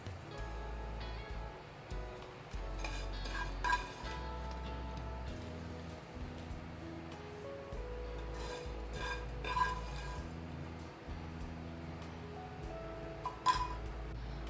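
A spoon scrapes and taps as roasted vermicelli topping is spread over kunafa in a pan, with quiet, intermittent clinks and scraping strokes at close range, no talking.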